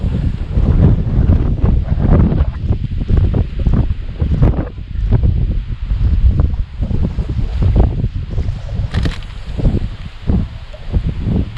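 Steady, heavy wind buffeting the microphone on a riverbank while fishing for chub and barbel, a loud low rumble and rustle running throughout with no pauses.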